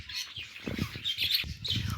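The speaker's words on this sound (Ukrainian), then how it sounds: "Бідні хвилясті папуги на вулиці серед зими." Budgerigars kept outdoors in the middle of winter chirp and chatter in quick, overlapping bursts, fairly close, with soft rustling underneath and no voices.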